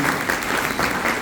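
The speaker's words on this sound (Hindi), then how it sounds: "मैं चाहूंगा जबरदस्त जोरदार तालियां" A brief burst of audience applause from a crowd, steady dense clapping with no voices over it.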